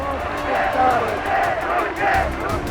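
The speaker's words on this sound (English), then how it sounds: "the Duce can turn crowds into screaming, adoring hordes" A large crowd roars and cheers for Mussolini in steady, swelling waves, loud and dense, with voices blending into one continuous shout.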